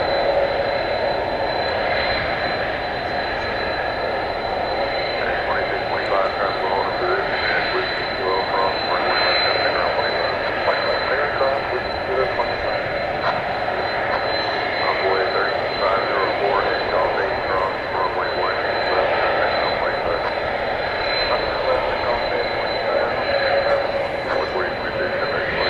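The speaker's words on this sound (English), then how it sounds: "That's the Royal Jordanian 7878 Dreamliner on its way back to Amman, Jordan, going over to the east side for takeoff." A Royal Jordanian Boeing 787 Dreamliner taxis for takeoff at DFW Airport at night, its engines giving a steady, distant jet whine and rumble that holds evenly throughout.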